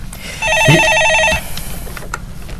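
A telephone rings once with a steady, bright electronic trill lasting about a second as a caller comes through to a live stock market radio show, loud and close, followed by quiet room noise.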